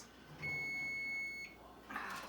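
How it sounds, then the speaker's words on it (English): Kitchen timer beeping while banana bread bakes in the oven: a single sustained high electronic tone lasting about a second, clear and fairly close, followed by a brief rustle. "Our timer's going off, so it's time to check our banana bread."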